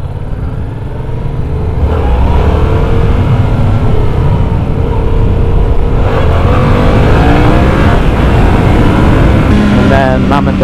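Kawasaki K1400 motorcycle engine running and revving close by, a loud continuous rumble with rising pitch toward the end, with people talking over it.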